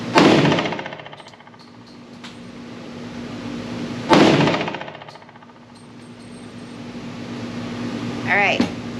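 Two loud, close gunshots from a Glock pistol chambered in .357 SIG, about four seconds apart, each followed by a long echoing decay over a steady background hum, ending with a brief high metallic ring.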